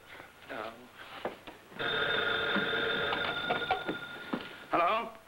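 An old-fashioned telephone bell rings in a sustained, loud burst, with people talking before and after the ring.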